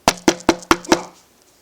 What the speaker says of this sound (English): 2 minutes later, there's a knock on the door.